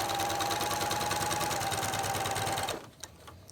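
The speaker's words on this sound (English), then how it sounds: "what we're going to do is stitch from that notch to this notch" A Janome sewing machine runs steadily, stitching quilt binding with a fast, even mechanical whir that stops abruptly near the end, leaving a quiet room with a few faint handling taps.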